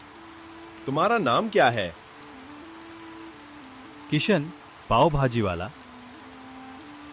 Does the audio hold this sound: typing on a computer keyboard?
no